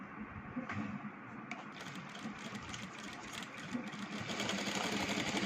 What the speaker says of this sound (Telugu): ఓకే, ఇటువైపు ఒక లైన్ కుట్టాం కదా, సేమ్ అలాగే మళ్ళీ ఇటువైపు కూడా